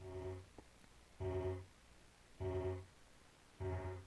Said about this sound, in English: there's going to be these alarms that sound like this.